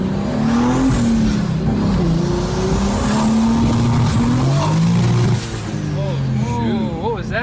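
A 2023 BMW M3 engine, in a car rebuilt after a wreck, revs by itself and drops through changing pitches, loud and close, with a rising whine and a few revs settling toward the end.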